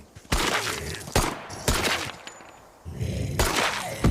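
Loud, echoing gunshots blast in a horror video game, about five separate shots spaced unevenly with ringing tails between them, and no talking.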